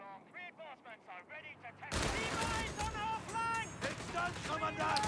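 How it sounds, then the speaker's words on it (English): Mortar and gun fire rumble through a Company of Heroes 3 battle, sharp heavy booms and bursts layered over a continuous commentator voice that keeps talking throughout. "now there's actually a mortar, so it has to get out of there"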